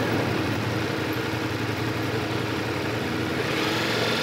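A motorcycle engine runs continuously during a riding lesson, a steady mid-pitched drone that idles and is blipped without pauses, fairly close and with no talking over it.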